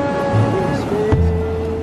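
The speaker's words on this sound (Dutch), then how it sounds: "de golven zijn hier zo hard" Strong waves on a beach in Bali make a continuous loud roar close by, with a low hum from a passing engine running beneath it.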